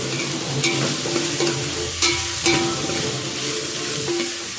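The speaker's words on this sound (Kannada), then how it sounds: "ಬೆಳ್ಳುಳ್ಳಿ ಪೇಸ್ಟ್ ಹಾಕ್ಕೊಂಡಿದ್ದೀನಲ್ವ, ಇದು ಚೆನ್ನಾಗಿ ಮಿಕ್ಸ್ ಮಾಡ್ಕೊತೀನಿ" Garlic paste being stirred in a hot frying pan, a steady close sizzle with a few scraping spoon strokes and clinks against the pan, no voices.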